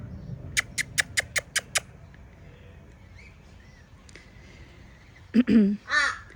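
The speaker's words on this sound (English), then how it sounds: "oh, the crows are here" Crows caw in a quick run of about seven sharp calls, fairly close, then a couple of louder harsh caws follow after a quiet stretch; a person talks faintly in the background.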